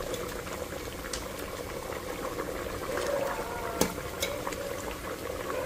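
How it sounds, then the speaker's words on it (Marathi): Mutton broth for biryani boils hard over a high gas flame, a steady bubbling simmer with scattered sharper pops and spits, close and moderately loud with no talking. "पाणी आटतंय."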